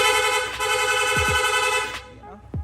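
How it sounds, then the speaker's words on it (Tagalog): A rapid horn on a Yamaha Sniper 155 motorcycle blares in quick, repeated bursts close to the mic, a steady loud tone that cuts off near the end, with a few low thumps around it. "Long press lang po natin yung horn switch, yung busina natin. Magsusunod-sunod na po yan."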